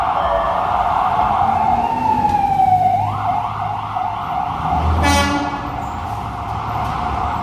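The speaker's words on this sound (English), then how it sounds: "Wow, a lot of those sirens happening today." Emergency vehicle siren rising and falling along a Midtown Manhattan street, a continuous wail over steady city traffic noise with a brief horn-like blast midway.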